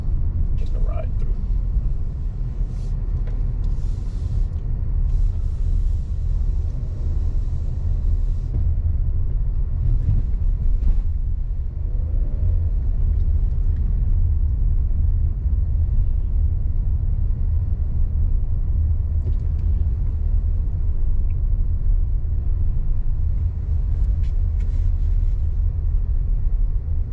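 A car drives through residential streets in Sweetwater, Miami-Dade County, Florida, with a steady low road rumble and engine hum throughout while someone talks over it.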